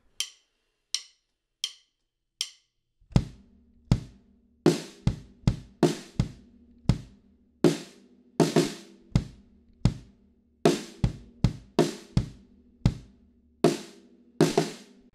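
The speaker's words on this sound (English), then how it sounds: "Okay, let's start with the kick and snare." A few clicks count in, then a two-bar kick and snare pattern repeats, deep thumps alternating with crisp cracks, close and dry.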